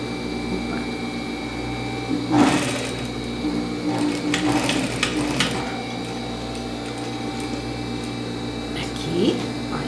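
Sewing machine running a reverse stitch at the end of a hood seam on a double-faced coat, a steady close mechanical hum with a few brief louder bursts.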